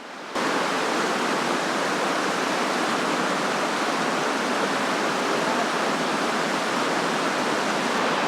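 A river rushes past a campsite in a dense, steady roar of flowing water, loud and constant, starting abruptly and carrying on with no speech.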